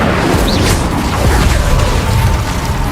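An Incendio fire spell cast in Hogwarts Legacy combat, heard as a steady roaring rumble with scattered bursts and crashes, loud and constant with no pause.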